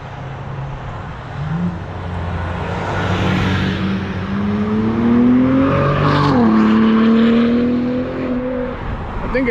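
A Cadillac ATS-V's twin-turbo V6 exhaust revs loud and close, its droning pitch climbing steadily, dipping briefly, then rising again before easing off.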